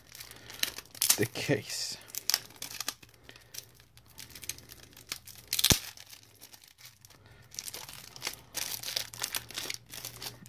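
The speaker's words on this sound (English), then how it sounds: "It's inside another plastic, and let me open this plastic as well" Plastic packaging crinkles and tears as it comes off the wooden case of a Gilbert & Son London sundial compass, in bursts of crackling rustle between quieter pauses, with a person talking now and then.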